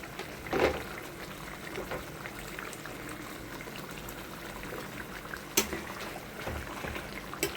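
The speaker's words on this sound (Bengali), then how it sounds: "চলো, খুব ভালো করে ফুটছে এটা।" A pot of curry bubbles on the stove before paneer goes in, giving a low, continuous simmering hiss with scattered soft pops and a few louder splashy bursts, heard close and without talk.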